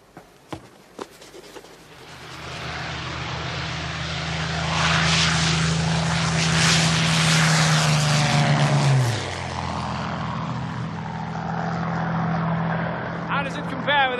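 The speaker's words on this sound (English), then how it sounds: "The Messerschmitt 109." A Messerschmitt 109 propeller fighter plane drones past, its engine swelling to a loud roar and then dropping in pitch as it passes, with a few sharp knocks at the start and clatter near the end.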